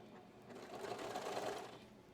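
A sewing machine stitches through swimsuit fabric, a steady close mechanical whir that swells slightly in the middle and runs for about two seconds with no talking.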